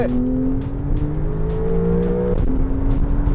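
A Porsche 991.2 Carrera GTS with about 450 horsepower accelerates hard in Sport Response mode. The engine roars loud and close, rising in pitch, then a quick gear change drops the note before it climbs again.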